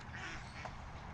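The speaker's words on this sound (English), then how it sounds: "I'm sure you can hear those ducks going ham over there." A pair of ducks quack nearby on the Rock River, their calls rising over a steady outdoor background at moderate volume, with no voices present.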